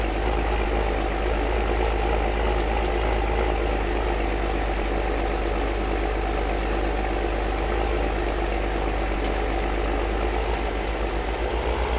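An old farm tractor engine idles and runs steadily for the whole stretch, a continuous low mechanical drone with a strong bass rumble and no speech over it.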